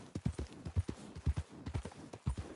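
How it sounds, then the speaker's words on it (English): Horse hooves clip-clop in a quick, steady gallop-like rhythm in a PlayStation 4 video game, a string of soft, close thuds with no voices over them. "Good horse."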